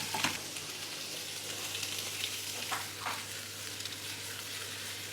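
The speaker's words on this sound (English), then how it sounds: "Toss it on high flame." Vegetables for kadhai paneer, including pepper and tomato, sizzle and fry as they are tossed in a pan on high flame, a steady close hiss with a few sharper crackles and stir scrapes, no talking.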